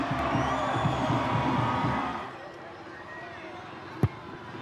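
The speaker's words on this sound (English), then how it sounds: "It's William Avili, and the crowd love it" A rugby stadium crowd at a Moana Pasifika v Waratahs match cheers loudly in a broad roar that fades after a couple of seconds, followed by a quieter hum and a single sharp thump.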